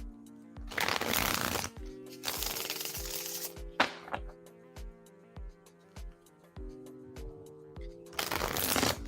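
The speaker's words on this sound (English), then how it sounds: "I'm shuffling for you right now." Tarot cards shuffled up close during a live reading: several loud riffling bursts, separated by lighter taps and card knocks, with no one speaking.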